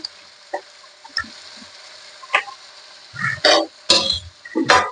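Spinach leaves go into a hot pan for a spinach and potato masala curry, giving short bursts of crackling, stirring and frying that grow louder and busier toward the end, with quiet gaps between.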